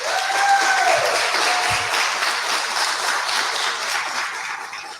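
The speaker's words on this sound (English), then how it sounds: "So can we give them a round of applause" Applause from an audience at an agricultural forum, a dense steady wash of many hands clapping at full strength for about five seconds, with a faint voice or tone briefly rising through it near the start.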